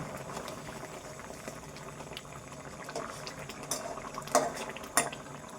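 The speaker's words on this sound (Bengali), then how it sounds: "মাছগুলো দিয়ে দিলাম, এবার একটু ফুটিয়ে নিই।" Hilsa fish curry simmers and boils in a pan, a steady bubbling hiss with a few louder pops toward the end and no talk over it.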